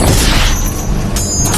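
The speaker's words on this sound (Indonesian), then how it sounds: "Mendengar ada suara tembakan" A gunshot in an action film about Agent 47 rings out as a loud booming blast with a ringing tail, filling the whole short moment.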